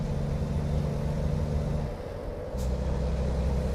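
A Volvo truck engine in the video game American Truck Simulator rumbles at idle, dips briefly, then a short sharp hiss of air brakes releases before the engine hum resumes.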